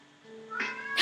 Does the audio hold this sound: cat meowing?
yes